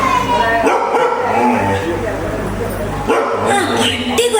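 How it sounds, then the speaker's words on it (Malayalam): Dog barking during a Malayalam stage drama: a few sharp, yapping barks and whimpers rise over loud dialogue, coming in short bursts near the start and again toward the end. "ആ പട്ടി കുറയ്ക്കണ്ടല്ലോ"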